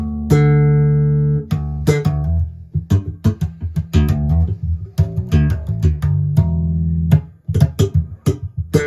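Electric guitar with EMG pickups on the neck pickup, warm rounded tone playing single notes and short phrases, clean and close, notes ringing and then stopping, no voices.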